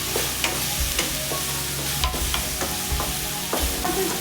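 Turmeric powder being stirred into spices frying in oil in a pan for an okra curry: a continuous sizzle with repeated scraping stir strokes of a spoon against the pan, close and fairly loud, no voices.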